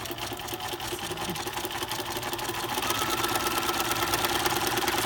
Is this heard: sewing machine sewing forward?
yes